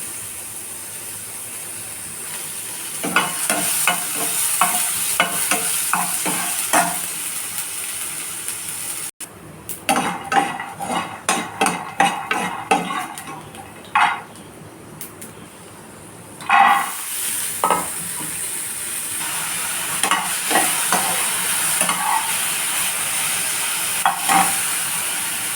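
Spices and peanuts frying and being stirred in a pan for a tamarind and peanut chutney, with steady sizzling broken by repeated clinks and scrapes of a spoon against the pan, loud and close, no talking.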